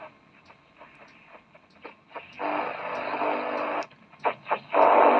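Hissing, buzzing medium wave radio receiver noise from switch mode interference, with a steady static wash broken by pulsing bursts and gaps, fairly loud and alone.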